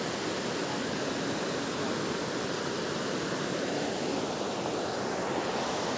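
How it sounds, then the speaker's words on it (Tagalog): Heavy rain pours down outdoors near a river as a dense, steady, close roar of hissing noise with no breaks. "Ang lakas ng ulan."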